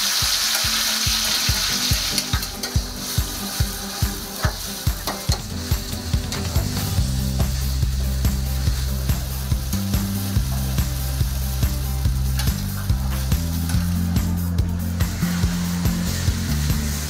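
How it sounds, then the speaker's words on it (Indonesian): Goat meat frying and being stirred in a wok with sautéed spices: a steady loud sizzle, with quick rhythmic scraping strokes at first, then continuous frying and stirring with no talk. "baru masukkan daging kambing"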